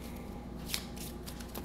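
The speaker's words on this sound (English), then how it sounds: "Shuffle your discard pile." A discard pile of cards is shuffled during a board game, a steady papery riffling with a few sharper flicks, close and continuous, with no voices.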